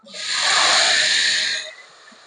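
Small onions (shallots) tipped into hot oil for a tamarind vattal kuzhambu give a sharp, loud sizzling hiss that swells quickly, holds for about a second and then fades away, with no talking.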